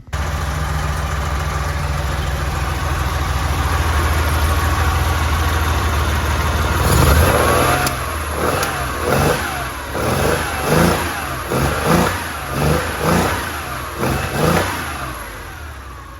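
A 1970 Porsche 911E flat-six with carburetors idles loudly up close, then is blipped through a run of sharp, repeated revs that rise and fall in quick succession.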